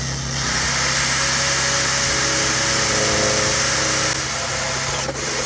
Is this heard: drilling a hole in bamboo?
yes